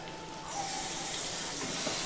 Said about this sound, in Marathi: आता याच्यात थोडंसं पाणी टाकते.